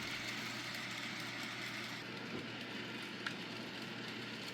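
Bachmann Paxton model locomotive running along model railway track, giving a steady, quiet motor whir with faint track rattle and a single small click, no voices.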